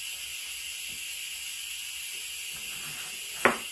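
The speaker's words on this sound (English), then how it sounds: "Once all that steam lets off" Steam hisses steadily as a cooker releases pressure while beef cooks for birria tacos, a constant bright high hiss with faint clicks and a short sharp burst near the end.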